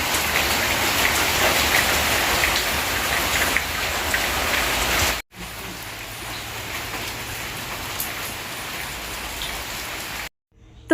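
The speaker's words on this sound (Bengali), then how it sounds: "আজকে সকালবেলা থেকেই বৃষ্টি শুরু" Steady morning rain pours down on a village, a dense even patter of drops on surfaces, briefly cutting out twice before resuming.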